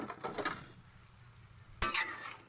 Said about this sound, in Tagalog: Next po natin gigisa ay ang veggies